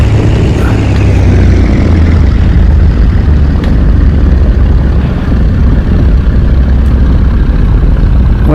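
Hawker Hurricane engine on landing approach with a trickle of power, flaps down: a loud, steady low propeller drone and rumble filling the whole stretch without a break.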